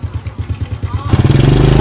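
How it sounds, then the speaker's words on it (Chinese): A small motorbike carries riders around Kuala Sepetang in Malaysia, its engine puttering in a steady close rhythm before turning louder and rougher as it picks up speed. "所以老板带着我们骑着他的小摩托"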